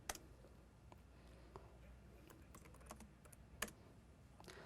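A computer keyboard is typed on to enter a terminal command, a quick irregular run of light clicking keystrokes, close and quiet, with no voice.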